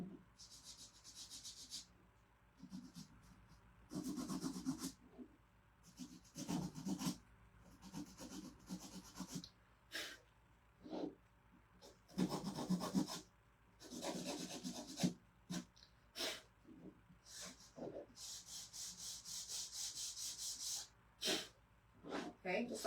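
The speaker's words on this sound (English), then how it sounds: "now what I'm going to do is go around the edge and just sand off a little bit." The edge of a small wooden craft house is sanded by hand in intermittent raspy scrubbing passes, some long and some brief, with quiet gaps between them.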